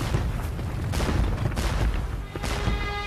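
Cannon fire at the Battle of Waterloo: repeated deep booms and bursts of gunfire over a dense, rumbling battlefield din, loud throughout and without pause.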